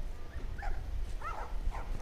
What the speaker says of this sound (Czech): Psi.